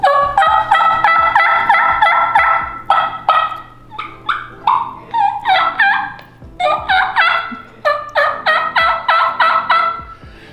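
A turkey mouth call imitates a raspy middle-aged hen, producing loud, close series of yelps in bursts of several notes each, repeated with short pauses.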